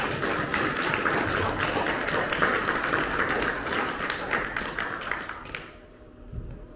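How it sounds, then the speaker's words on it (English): Congregation applause at a Pentecost church service, a dense steady clapping that fills the room for about five seconds, then fades out to quiet near the end. "Let's thank the Lord for them with applause."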